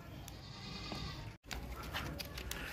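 A goat at a livestock market bleats amid steady crowd and market noise, with a brief dropout midway and murmuring voices in the background.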